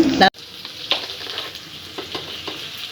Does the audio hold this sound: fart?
no